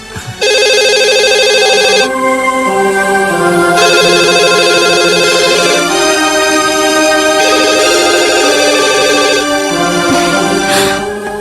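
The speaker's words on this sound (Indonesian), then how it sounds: "Ayo angkat dong telepon dari Raya, Ma." Phone ringtone blaring loud and close in a dramatic film scene, a repeating electronic melodic pattern that cycles through several phrases for about eleven seconds without talk.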